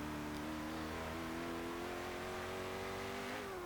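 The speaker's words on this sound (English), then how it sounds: "it's unbelievable how quick this car is in terms of acceleration" A 2016 Koenigsegg Regera hybrid hypercar accelerates hard in the video game Forza Horizon 3, its engine holding a loud, continuous roar that climbs steadily in pitch, with no talking.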